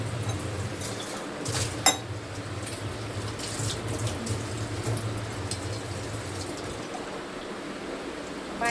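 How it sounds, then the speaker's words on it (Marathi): Drinking water runs from a tap in a home kitchen, a continuous soft trickle with a low hum beneath, broken by a few sharp clinks of a vessel near the start. "चला आता तहान लागली, पाणी पिते."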